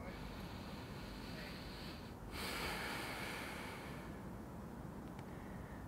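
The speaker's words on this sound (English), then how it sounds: "Continue breathing through the nose." Slow, quiet breathing through the nose during a gentle yoga class, soft airy inhales and exhales close to the microphone against a faint steady hiss.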